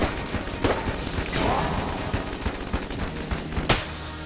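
Rapid bursts of video game gunfire crackle in quick succession, loud and close, with a few sharper blasts standing out from the barrage.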